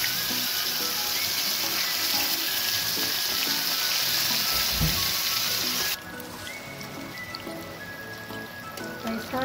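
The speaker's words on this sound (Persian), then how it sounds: "حالا یک ربط اضافه میکنیم تا بانجان ها سرخ شود." Eggplant for borani fries in plenty of salted oil in a pan, giving a dense, steady sizzle and crackle throughout. The sizzle drops a little in loudness partway through and carries on more quietly.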